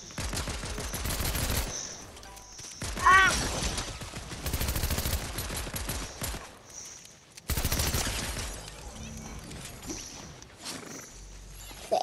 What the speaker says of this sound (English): AI that's shooting at you